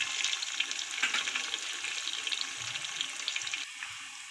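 Onion sizzling and frying in hot oil in a pan while cooking vegetable pulao, a steady bright crackle and hiss that runs the whole time with occasional louder pops, moderately close and free of talk.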